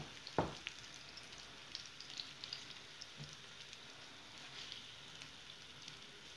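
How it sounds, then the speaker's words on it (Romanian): Sausage patties fry in a little hot oil with a steady, crackling sizzle. Occasional louder pops and utensil taps stand out, with no voices. "Vedeți cum sfârâie."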